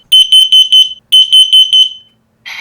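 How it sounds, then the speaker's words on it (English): A wireless smoke and carbon monoxide alarm sounding its test, loud close high-pitched beeps in two rapid groups of about five, followed by a brief electronic chirp. "Press the smoke carbon monoxide detectors test silence button."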